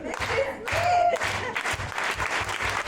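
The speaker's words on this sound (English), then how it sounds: "I like being in a group or room that does like a slow clap for me" Audience applause and cheering from a room full of people around the Boston Marathon, a dense steady wash of clapping with voices mixed in, loud and close throughout.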